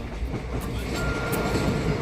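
The Madgaon–Nagpur Express, with a banker engine attached for the Kasara ghat climb, rolls along in a loud, steady, close rumble with faint rhythmic wheel clatter.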